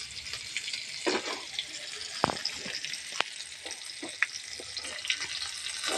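Ridge gourd pieces with chopped green chilli and tomato fry in hot oil, a steady sizzle with occasional sharp pops and stirring clicks close by.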